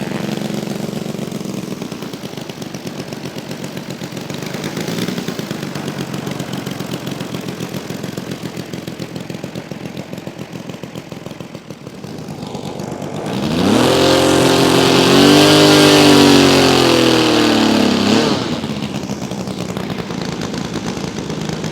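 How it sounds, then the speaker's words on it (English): Radial engine on a giant RC T-28 Trojan model plane running steadily during ground testing, a loud rough drone that swells into a higher revving burst near the end before settling back to its even run. "engine's running fantastic"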